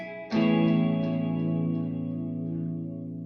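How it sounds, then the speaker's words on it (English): A sustained electronic tone starts abruptly and rings on, smeared with reverb, with faint repeating echoes fading behind it. "Just a little bit of reverb on it."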